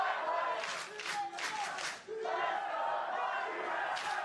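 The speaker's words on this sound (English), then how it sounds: "I like the battling chants here." A large esports arena crowd at a League of Legends match chants rhythmically in rising and falling waves, loud and sustained, with cheering swells across the arena.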